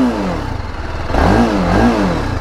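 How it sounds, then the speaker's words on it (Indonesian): A 300cc single-cylinder motorcycle on its stock exhaust revs up close by, the engine note climbing and falling through repeated throttle blips with a steady idle rumble beneath. "Idolnya kayak gini, bro, 300 cc, knalpot standar, 1 silinder. Oke, kita narik gas dulu."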